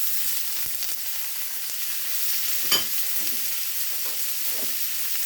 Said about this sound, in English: we're going to start sauteing our onions and celery